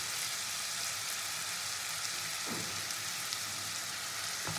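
Onion and chopped tomato, salted, frying in a pan for a rui fish curry with capsicum. A steady, even sizzle crackles close by with no talking.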